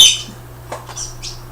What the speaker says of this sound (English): And the birds are excited.